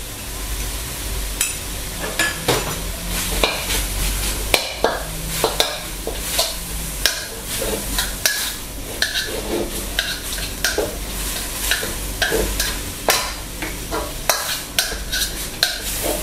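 Minced pork dry-fried with khua kling curry paste in a pan without oil, heard up close as a constant crackling sizzle. Irregular scraping and clinking from stirring runs through it the whole time.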